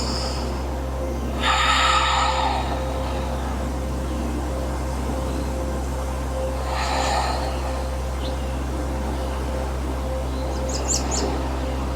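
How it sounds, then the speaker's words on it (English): Slow, deep breaths taken during a yoga flow, two or three soft airy inhales and exhales spaced several seconds apart over a steady low hum, with no talking. "We'll take 3 more deep breaths here."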